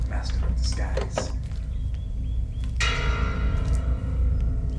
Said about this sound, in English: Could you lay off the bells?